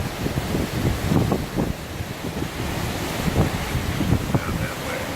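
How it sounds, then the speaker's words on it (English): Strong gusty wind from Hurricane Irma roars against the microphone in heavy buffeting bursts that swell and ease, loud and close, with a low rumbling wash beneath and no voices. "it gets really windy and it'll die down for a little bit"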